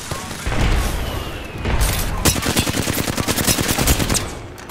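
Rapid automatic gunfire from Apex Legends, loud and close, with dense bursts of shots repeating in a fast rhythm over several seconds, joined by sharp impacts and a faint voice.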